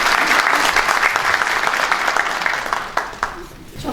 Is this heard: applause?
yes